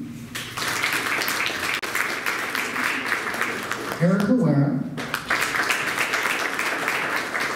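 Steady, dense applause fills a school assembly hall as students are introduced, continuing without pause while a man reads out a name over the clapping midway through.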